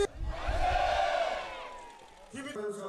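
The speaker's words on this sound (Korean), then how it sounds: "조천 만세동산에서는 그날의 함성이 다시 한번 뜨겁게 울려 퍼졌습니다" Large crowd at a March 1st independence movement commemoration in Jeju, raising a loud collective shout of cheers that swells and fades, followed by a second, shorter burst of voices.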